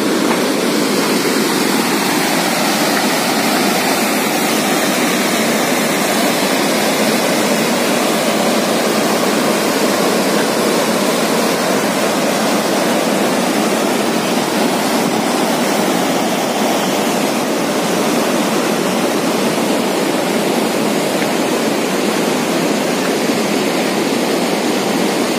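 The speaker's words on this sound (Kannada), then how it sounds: "ಈಗ ನಾನು ಇಲ್ಲಿ ಡ್ಯಾಮ್ನಿಂದ ನೀರು ಬರ್ತಾ ಇರೋದನ್ನು ತೋರಿಸ್ತೇನೆ." Water rushes out of Hammigi dam in a dense, constant roar of broadband noise, loud and unbroken from start to finish, with no voices.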